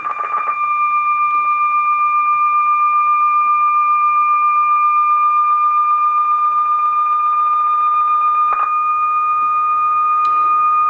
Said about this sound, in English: Now you start hearing that other beat coming in, that beep, beep, beep.